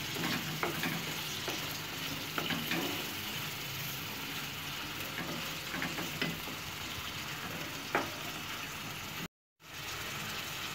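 Prawns sauté in masala in a pan for a pepper fry, giving a continuous close sizzle with occasional faint stirring scrapes and a brief gap near the end.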